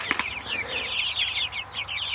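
Meat chickens clucking in an enclosure on a farm, a lively run of overlapping close clucks and chirps with a brief flutter near the start.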